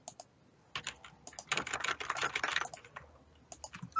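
A computer keyboard clatters with rapid, close typing, a dense burst of key clicks in the middle with scattered single taps before and after.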